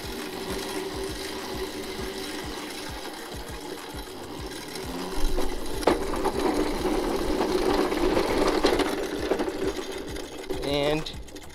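A Razor Crazy Cart upgraded with a 36V battery and an overvolted controller, its electric motor whirring close by in a steady mechanical buzz that grows louder partway through, with a voice talking over it.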